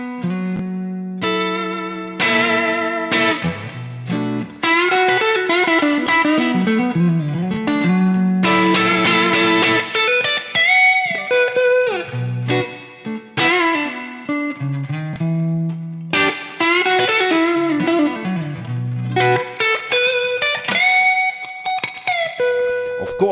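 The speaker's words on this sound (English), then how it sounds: "It's really nice, the tube spring effect." Electric guitar played through a Fractal tube spring reverb effect, a run of sustained chords and single notes ringing out loud and continuous with a lush reverberant tail.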